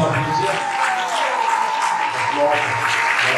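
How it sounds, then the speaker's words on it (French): A crowd applauds steadily, dense clapping that holds at an even level throughout, with a voice briefly audible under it at the start. "On peut vraiment les applaudir."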